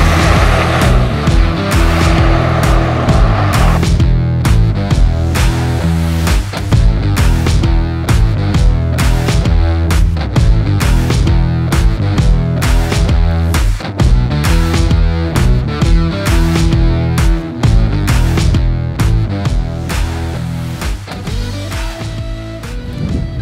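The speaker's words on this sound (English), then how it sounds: "I'm driving the 2020 Ram Rebel Ecodiesel." A 2020 Ram 1500 Rebel EcoDiesel pickup truck is driven, its engine a loud, continuous drone with busy, rapid fluctuations throughout and no voices.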